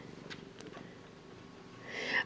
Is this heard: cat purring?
yes